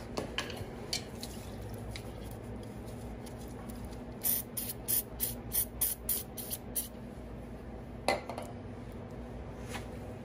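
Lubricant sprays onto the coil spring of a 2013 Cadillac CTS AWD coupe during a lowering spring install, heard as a quick series of short, sharp hissing bursts midway, then one more burst, over steady background noise.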